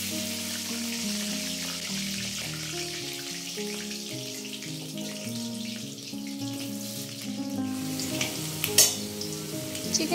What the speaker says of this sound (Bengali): তো চলো এবার আমি কড়াইতে তেলটা দিয়ে দিই আর রান্না করব।